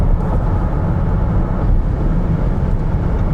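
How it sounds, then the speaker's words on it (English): Steady wind and road roar fills the cabin of an Audi S6 e-tron Avant, a 551 hp electric wagon, cruising at 150 km/h on a rough, noisy highway. The sound is a constant low rumble without voices. "a bit more wind noise"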